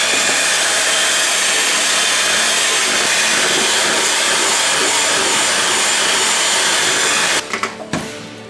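An electric mixer beats frosting as powdered sugar is added, making a loud, steady, close whir that runs continuously and then cuts out in a few rattling stops near the end.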